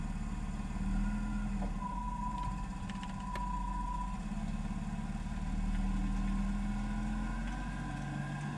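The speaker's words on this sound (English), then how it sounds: "So now my car can drive away." A car engine runs with a low, steady rumble, fairly faint and even throughout, with a slight swell partway through and no voices.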